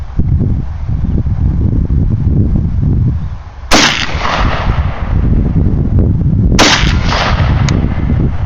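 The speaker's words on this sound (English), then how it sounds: "We fired a few rounds here." Two loud SKS rifle shots fired outdoors a few seconds apart, each a sharp crack with a short echoing tail, over heavy, constant wind buffeting the microphone.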